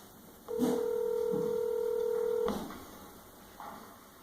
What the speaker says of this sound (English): Dialing the number on the internet.